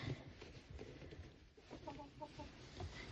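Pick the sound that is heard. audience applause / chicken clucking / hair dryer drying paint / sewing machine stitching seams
chicken clucking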